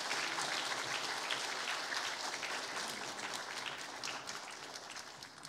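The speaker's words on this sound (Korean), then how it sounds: "박수로 격려해 주시기 바랍니다." A church congregation at a Sunday service in Gumi applauds in a dense, steady round of clapping that fills the hall and fades slightly toward the end, with no talk over it.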